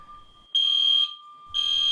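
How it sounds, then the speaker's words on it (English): A college fire alarm sounds in two loud, shrill electronic bursts about a second apart over a continuous high tone, close and harsh. "Then the fire alarms began."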